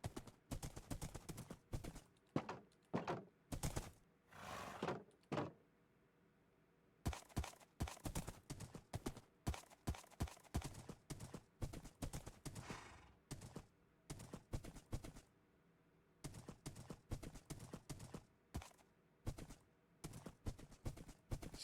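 Hooves clip-clop in quick bursts as a horse is ridden in a video game, the rhythmic clatter running in steady runs with brief pauses between them.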